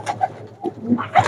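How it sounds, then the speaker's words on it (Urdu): Saharanpuri pigeons coo softly nearby in a few short, throaty bursts. "یہ سارے بلٹ سہارنپوری کبوتر ہیں"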